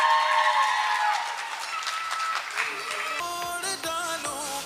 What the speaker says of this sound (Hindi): जब तक ऑडियंस की ताली नहीं आएगी कुछ करेंगे नहीं